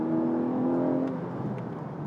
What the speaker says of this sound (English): I'm just leaving those revs high.